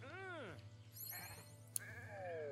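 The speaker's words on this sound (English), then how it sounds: "Sorry, sheep. The sheep is saddened beyond words and just wants to be alone." Sheep bleating in the video game Renowned Explorers: International Society, with one wavering bleat up front followed by fainter game effects and a low steady hum, while a voice talks over it.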